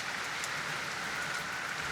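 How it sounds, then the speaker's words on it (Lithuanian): Steady rain falls outdoors during a stormy stretch of a motorcycle trip across Europe, a dense, even patter hissing without pause at moderate volume. "Bet lietus, sekundėlę parodysiu, nelabai koksai malonus oras."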